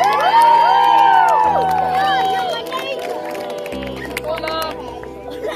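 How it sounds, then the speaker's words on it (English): A school audience of grade 7 and 8 students cheers and whoops loudly, a dense crowd roar that gradually fades and thins toward the end. "Can I just hear a big cheer from you guys if you know who I am?"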